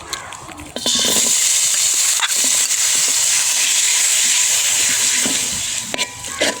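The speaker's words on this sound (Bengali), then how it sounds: "কড়াই গরম হয়ে গেছে, এবার মাংসের কিমাগুলো দিয়ে দেবো" Minced chicken sizzles steadily in a hot wok, a loud, continuous hiss that rises sharply after the first second and holds with occasional stirring clicks.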